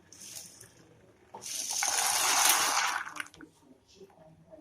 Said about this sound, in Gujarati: તો પાણી ઉકળી ગયું છે એટલે આપણે જે બનાવવાના પાસ્તા છે એ બધા એમાં